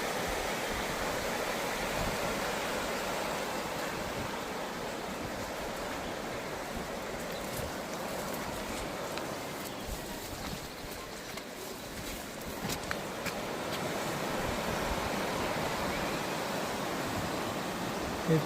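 A river flows along the Camino Francés path between Roncevaux and Zubiri, a steady broadband rush of water that stays constant and fairly near, with no talking.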